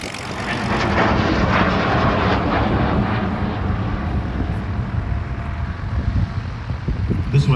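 A de Havilland Venom jet fighter at a classic fighters airshow at Omaka, a loud, sustained engine roar with wind buffeting, steady throughout and heard outdoors.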